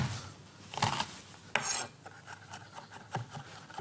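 Garlic being cut with a knife, a few soft, close scraping and chopping strokes against a board before it goes into a pan with olive oil, quiet with scattered light taps.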